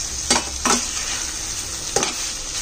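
Tuna spaghetti with vegetables being stirred in a sizzling pan, a steady frying hiss broken by three scraping stirs of utensil against pan, close and alone.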